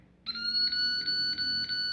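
High steady electronic tone from a short-circuit component identifier probing a circuit board, starting abruptly and then pulsing in a regular beeping rhythm, close and clear.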